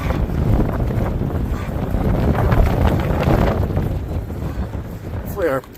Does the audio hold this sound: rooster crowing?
no